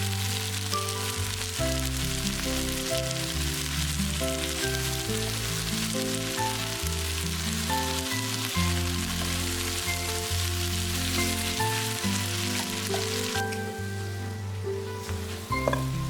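Vegetables fry in vegetable oil for a golden crust, making a steady, continuous sizzle throughout, heard beneath background music.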